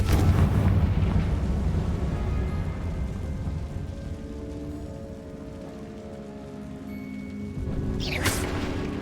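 A Confringo fire spell bursts in Hogwarts Legacy: a sharp, loud explosive crack near the end, following a long, dense rumbling wash of game ambience.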